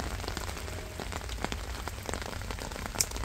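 Rain falls on a small vegetable garden, a soft steady patter of drops hitting surfaces and leaves, fairly faint with scattered louder taps.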